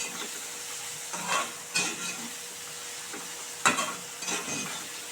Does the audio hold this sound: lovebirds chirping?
no